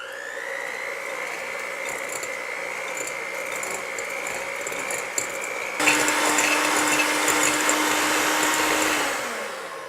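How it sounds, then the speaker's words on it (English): A hand blender's steady electric motor whine runs continuously, then shifts to a louder, rougher buzzing as the blades cream thick margarine and sugar, close and uninterrupted, winding down at the end. "I'm going to cream them with my hand blender."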